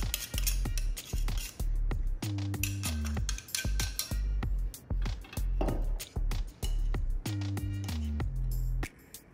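Pie crust dough being mixed in a bowl by hand with a utensil, giving repeated clinks and scrapes against the bowl in a steady, close, fairly loud rhythm, without talk.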